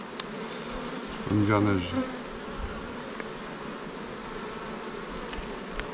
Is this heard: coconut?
no